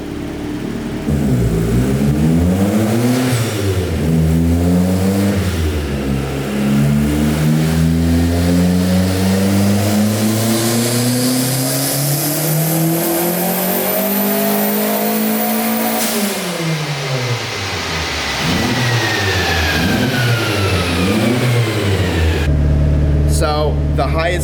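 A Mazda Miata engine on a dyno run climbs through repeated rising revs, holding a loud, strained wail near the top before dropping off and revving again, close and dominant.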